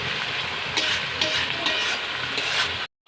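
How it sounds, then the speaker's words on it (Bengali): Onions with salt fry in a pan, a dense continuous sizzle with scraping stir sounds, close and steady before cutting off abruptly. "তো নুন অ্যাড করার পর আমরা আবার একবার এটাকে নাড়িয়ে নেব।"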